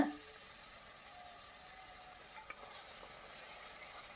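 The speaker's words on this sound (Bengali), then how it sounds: "পেঁয়াজ বাটা দিয়ে আবারও ভালো করে নেড়ে চেড়ে নিচ্ছি" Onion paste is stirred as it fries in a pan for a gulsha tengra fish dish, making a faint, steady sizzle with one soft knock of the spoon.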